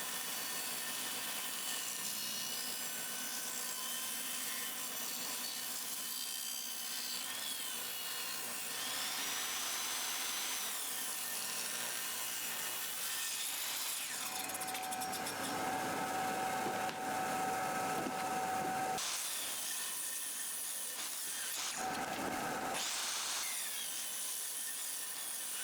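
A table saw rips a length of hardwood salvaged from pallet wood, a loud, steady whine running continuously through the cut and changing pitch briefly near the end as the blade clears the board.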